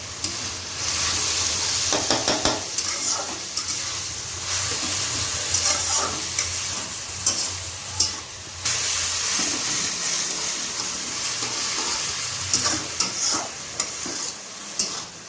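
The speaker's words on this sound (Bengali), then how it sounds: "আলুটা আর একটু পেঁয়াজটা ভাজা ভাজা করে তারপরে সবগুলো দিয়েছি।" Potatoes and onions fry in a pan while being stirred, giving a continuous close sizzle broken by repeated scraping and clinking strokes of the spoon, with no talking.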